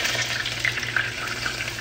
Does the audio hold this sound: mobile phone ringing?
no